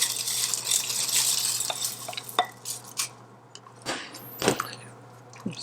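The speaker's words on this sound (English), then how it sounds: "Stir these in, and the egg noodles are going to need about 10 minutes to soften and cook." Egg noodles being stirred into a pot of turkey soup, with wet scraping and sloshing plus a few light knocks of a utensil against the pot, close up, easing into quieter scattered clinks toward the end.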